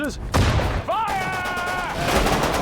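Gunfire in the WWII strategy game Sudden Strike 4: a sharp burst of shots opens the moment, then continuous noise runs under a speaking voice.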